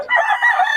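A Sweater bloodline gamecock rooster, a bullstag, crows once, loud and close, a short bright call that carries steadily through the whole burst.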